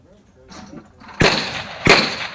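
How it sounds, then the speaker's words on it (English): Two loud gunshots crack about half a second apart at a shooting match stage, pistols, rifle and shotgun fired from doorway, bar and window positions, preceded by faint background talk. "Pistols engaged from the left doorway, rifle from the bar, and shotgun from the right window."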